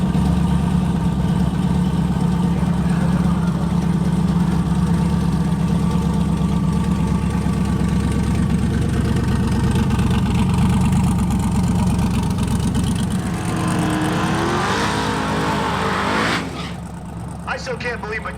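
Turbocharged race car engine with a worn turbo and new tires, idling loudly with a steady low rumble, then revving with rising pitch near the end before dropping off; voices talk faintly underneath.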